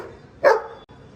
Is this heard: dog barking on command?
yes